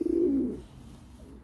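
A pigeon gives a low, throaty coo that swells for about half a second and then fades into quiet background.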